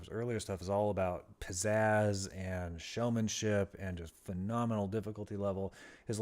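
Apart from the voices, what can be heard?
None of the usual background noises is heard.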